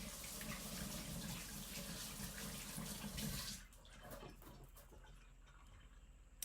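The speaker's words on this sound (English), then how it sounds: "So now I will rinse the salmon off my hands" Tap water running steadily into a kitchen sink while salmon is rinsed off hands, a close full rush for a few seconds, then the flow cuts off, leaving faint drips and light clinks.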